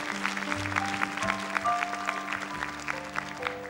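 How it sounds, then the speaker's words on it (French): Studio audience applause on a 1980s French children's television talent show, steady clapping carrying under sustained music tones, moderately loud and continuous throughout. "Et on l'applaudit très fort, Nadine, dans sa jolie robe."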